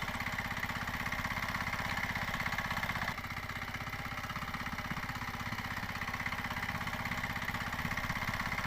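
A tractor engine running in a paddy field at the start of rice farming work, a steady, faint, rhythmic mid-pitched chug that continues evenly throughout, with a slight shift in tone partway through.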